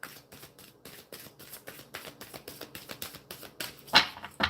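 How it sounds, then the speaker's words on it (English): Oversized playing cards are shuffled by hand in a quick series of soft flicking riffles and papery slaps, close and fairly quiet, building to a sharper snap near the end. "These cards are really big and very hard to shuffle."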